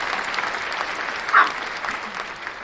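A small live audience at a guitar quiz breaks into brief, steady clapping, with a faint cheer rising in the middle amid the claps.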